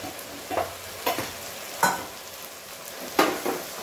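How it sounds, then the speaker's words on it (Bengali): Cumin and mustard paste frying in a pan with Kashmiri red chilli, heard as a soft steady sizzle with several louder scraping stirs spaced irregularly, close by and without talk. "মশলাগুলো ভাজা হচ্ছে"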